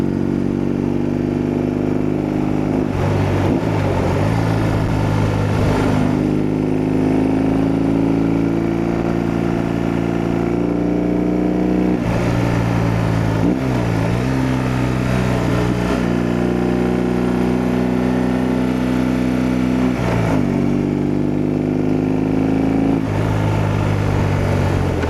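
A BMW R18 Transcontinental motorcycle rides through the Rocky Mountains, its big engine droning steadily and loudly throughout, with the pitch rising and dipping as the rider works through gears and throttle changes.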